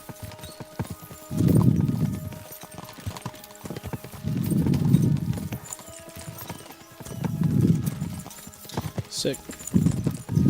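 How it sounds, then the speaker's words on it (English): Horses gallop in rhythmic clip-clop bursts with an occasional whinny in the medieval game Kingdom Come: Deliverance 2, the hoofbeats rising and falling in waves while a voice speaks briefly over them. "We should spur the horses on."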